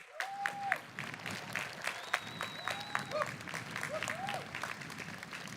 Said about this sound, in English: Let's give them a round of applause for their dedication